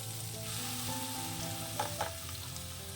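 Ash gourd pieces fry in ghee in a pan for kashi halwa, a steady soft sizzle with a couple of brief stirring clatters, close and even, no talking.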